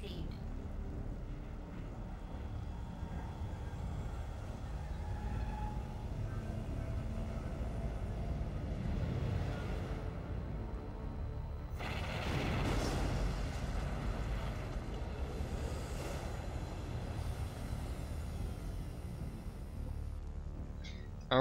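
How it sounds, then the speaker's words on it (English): Gunship bombing run in Metroid Prime 3: Corruption, heard as a steady low rumbling roar of engines and blasts that swells into a louder burst midway, with a voice talking over it. "tell our ship to do a bombing run"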